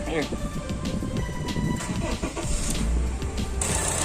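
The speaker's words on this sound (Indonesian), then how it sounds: "Ya, setelah itu kita nyalakan mesinnya" A car engine is started after its radiator is flushed with Super Flush coolant. The engine cranks and catches into a loud, close, steady running rumble, with people talking over it.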